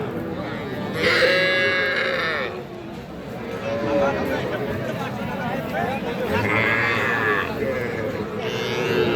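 Cattle, including young bulls and heifer calves, lowing and bleating among farm animals at the Aftabganj livestock market in Bangladesh, with steady crowd chatter and voices throughout.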